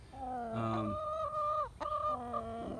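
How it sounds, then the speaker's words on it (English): Chickens cluck and squawk nearby, with drawn-out, honking calls rising and falling over a low background murmur. "got 9 chickens of various types."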